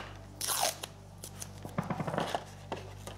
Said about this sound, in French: Je prends le scotch et je le colle une fois,